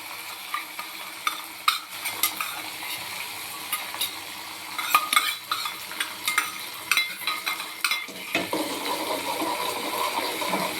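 Finely chopped green chilli, curry leaves and ginger frying in a pan for semiya tempering, a soft steady sizzle broken by repeated scraping and clinking of a spoon as it is stirred.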